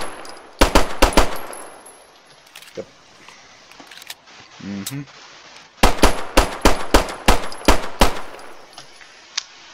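Soviet TT-33 pistol firing in the Arma RHS mod, sharp loud shots in two rapid bursts with a pause between, a brief voice speaking in the gap.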